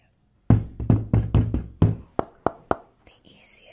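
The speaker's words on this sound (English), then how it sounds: "This is what it sounds like when Naomi is walking towards you" Footsteps of a character named Naomi approach in a string of about eight close, crisp heel knocks in an even walking rhythm, growing sharper and lighter toward the end before fading.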